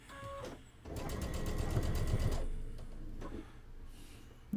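Sewing machine stitching a graduation quilt, a close, steady mechanical whir that runs for about a second and a half before stopping, with a brief softer burst afterward.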